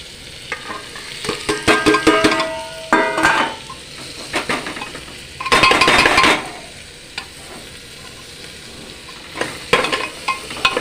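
Spoon scraping and clinking in a pot while cumin, coriander, Kashmiri chilli, turmeric, garam masala and salt sizzle and fry, with loud clustered stirring bursts and quieter hissing in between.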